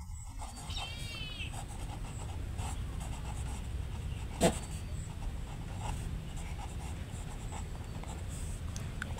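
Handwriting on paper, likely pen strokes while noting a calendar answer for a primary-school maths lesson, a steady faint scratching with a brief louder tap midway over a low background hum.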